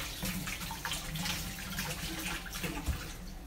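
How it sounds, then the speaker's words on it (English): Food rinsed under a running kitchen tap, a steady moderate hiss and splash of water that keeps flowing throughout. "I just rinse it off."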